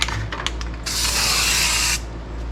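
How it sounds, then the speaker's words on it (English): A can of bedliner sprays onto the edge of a Toyota Tundra fender flare in one steady hiss of about a second, preceded by a few faint clicks and handling noises. "I'm gonna spray this edge"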